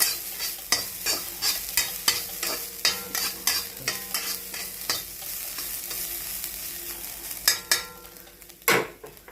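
Grated coconut lightly frying in a pan for drumstick-leaf thoran, with regular scraping stir strokes about every half second over a soft continuous sizzle, ending with a few sharper utensil scrapes.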